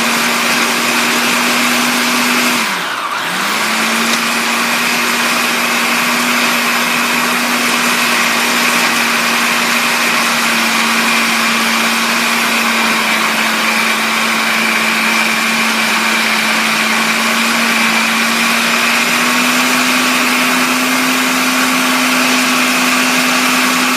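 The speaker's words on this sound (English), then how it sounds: "And then let's blend it up." A kitchen blender purees soup with olive oil in a loud, steady whir that holds an even pitch for a long stretch, with a brief dip early on as it restarts and no talking.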